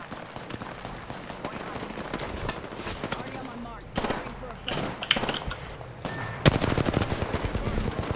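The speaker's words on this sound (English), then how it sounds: "I'm getting shot from somebody in the ring." Gunfire in Apex Legends: bursts of rapid automatic shots, some near and loud, others more distant, repeated throughout under a player talking excitedly.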